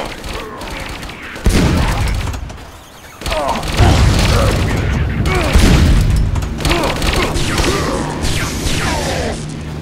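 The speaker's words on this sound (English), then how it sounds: "What is this silenced weapon they're shooting me with?" Vivisector: Beast Within gunfight, loud and dense, with a silenced M4-style rifle with a drum magazine firing muffled bursts amid booms, mechanical clatter and crashes; a short lull comes early, then continuous action resumes.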